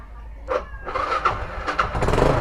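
A Fury 125 motorcycle engine cranks and catches on the first try, sputtering into a running idle with uneven bursts close to the microphone.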